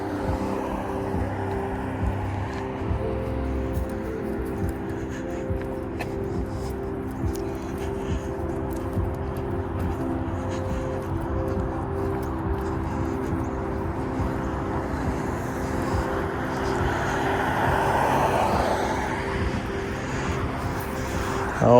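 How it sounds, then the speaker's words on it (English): Traffic on a road heard during an outdoor dog walk: a continuous low rumble of passing cars, swelling slightly as a vehicle nears toward the end, with no talk. "It's not the best to listen to hearing all these cars."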